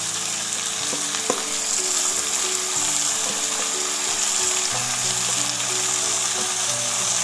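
Onions sizzling in a pan for a prawn gravy, a steady crackling fry with occasional stirring scrapes, close and continuous, with no voice over it.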